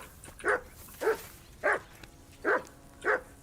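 A dog barking in the video game Kingdom Come: Deliverance II, five evenly spaced barks about half a second apart, loud and close, with no talk over them.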